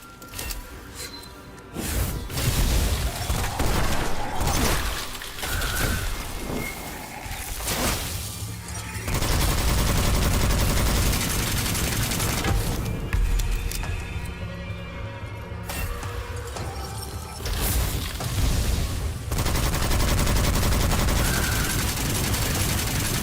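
Continuous loud gunfire in the first-person shooter Witchfire, dense overlapping shots and crashing impacts that run almost unbroken, with brief lulls between heavy sustained bursts.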